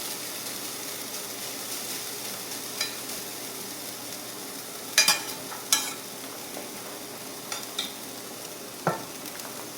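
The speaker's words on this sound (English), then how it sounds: "while the onions and peppers are cooking" Onions and peppers cooking flat in a pan, a steady broadband frying hiss with a faint low hum beneath and a few sharp utensil clicks and taps near the middle, no talking.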